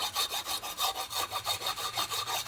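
Abrasive pad rubbed back and forth over a brake disc to clean it, about a dozen even rhythmic rasping strokes, close and steady with no talk.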